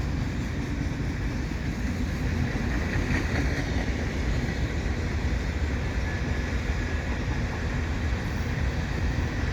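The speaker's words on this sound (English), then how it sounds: "There's trains flying along now." A CN eastbound freight train rolling past at Dorval, a continuous loud, dense rumble and clatter of wheels on rails that holds steady throughout, close by with no talking.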